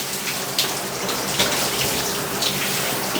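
Water sprays and splashes steadily onto boating foul weather gear, a dense continuous hiss and patter close up with occasional sharper spatters, no talk.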